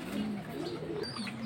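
Pigeon cooing close by, a soft low continuous coo repeating over a short stretch, with faint chirps above, from high-flying pigeons being shown by hand.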